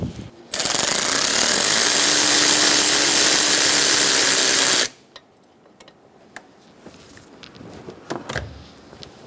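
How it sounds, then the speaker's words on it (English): A 10mm wrench works the oil tube bolts on a 2010-2014 Subaru Outback during a valve cover gasket job, giving one loud, sustained ratcheting mechanical burst of about four seconds, followed by quieter scattered clicks and handling noises. "Using a 10mm wrench, we're going to remove the two bolts for the oil tube."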